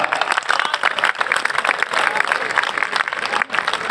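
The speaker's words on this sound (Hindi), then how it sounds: "आपकी तालियां बराबर बजती रहनी चाहिए" Dense, steady audience applause at a Sain Jayanti gathering in Jind, loud and continuous throughout, with no talk over it.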